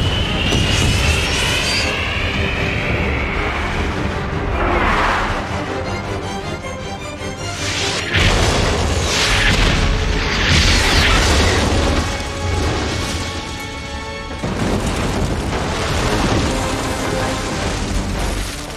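Movie sound effect of Maverick missiles striking a bridge: repeated heavy booms and crackling blasts with rumbling debris, loud and dense across the whole stretch.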